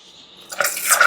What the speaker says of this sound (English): And it's now ready to pour the first pint.